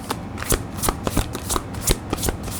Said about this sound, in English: if I just keep shuffling, like I'll keep pulling and pulling and pulling